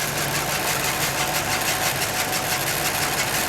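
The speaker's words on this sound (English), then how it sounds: "It's a typical Pontiac explosion sound." A 1977 Pontiac Firebird Esprit idles steadily, a low chugging engine with even exhaust pulses heard close and continuous, no talking.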